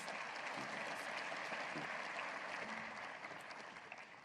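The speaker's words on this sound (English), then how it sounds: "Please join me in applauding them" An audience at a university State of the University address applauds in a dense, even wash of clapping that holds steady before easing slightly at the end.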